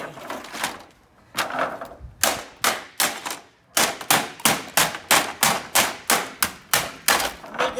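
A brittle plastic Omega Altise box fan is stamped on and smashed underfoot, producing a loud series of sharp cracks and snaps that start irregularly and settle into a fast, steady rhythm.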